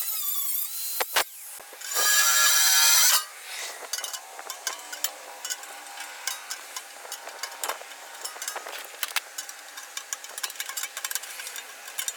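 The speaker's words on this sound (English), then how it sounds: "We're going to take all this off with a wire wheel, a grinder" A handheld grinder fitted with a wire wheel strips old material off metal while building a soft firebrick forge, giving a loud harsh burst of a couple of seconds followed by scattered scraping and clinks.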